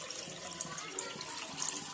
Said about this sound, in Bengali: কড়াইয়ে জল দিয়ে দিচ্ছি